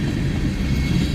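A train rolls along railroad tracks right beside homes in rural Alabama, a steady loud rumble of rail cars passing close by with no talk over it.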